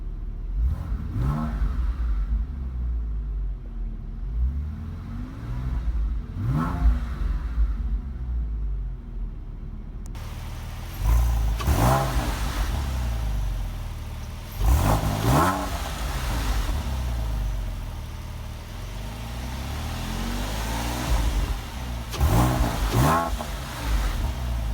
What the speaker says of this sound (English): let's take 30 seconds to listen to the sounds of this glorious engine